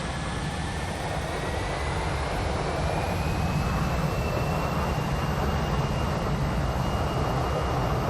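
Airliner jet engines held at takeoff thrust on a departure from Phoenix in a flight simulator game, a steady, loud, unbroken roar with a faint rising whine above it.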